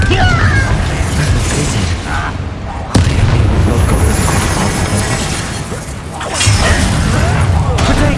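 A Confringo explosive spell blasts during combat in Hogwarts Legacy, with loud booming impacts over a constant bed of game rumble and battle noise, punctuated by a sharp crack partway through, while voices talk in the scene.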